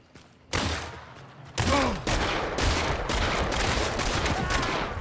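Gunfire in the multiplayer game Hunt: Showdown at a slaughterhouse: a loud crack at about half a second, then a burst of several sharp shots with ringing tails that keeps up busily to the end.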